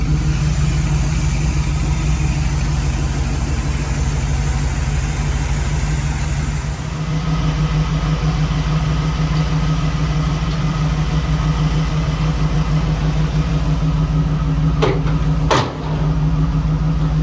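A 1965 Chevrolet C10 pickup engine idles steadily after a fuel pump replacement, loud and close with a constant low rumble that shifts slightly partway through, with no talk.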